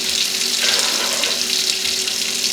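Six cups of water pour steadily into a pot for cooking rice, a continuous close splashing rush with no one talking.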